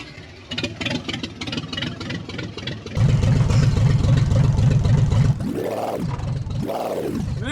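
A Deuce and a Half military truck engine runs loudly up close, a rough idle that steps up to a harder, throbbing run, then swells and falls twice as the throttle is revved.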